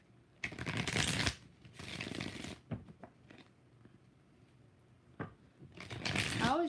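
Tarot cards are shuffled in several quick, crisp riffling bursts, close and fairly loud, separated by short pauses with a faint voice speaking near the end.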